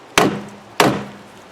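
Two sharp hammer taps on metal parts of a Land Rover Defender door in very poor condition, evenly spaced about half a second apart, close and fairly loud with a brief ringing tail.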